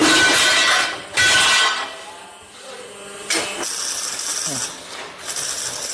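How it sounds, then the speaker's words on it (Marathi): An angle cutting machine in a chaff cutter workshop makes loud, harsh bursts of mechanical cutting in short repeated spells, rattling and clanking, with quieter whirring machinery running between them. "अँगल कटिंगचं मशीन आहे"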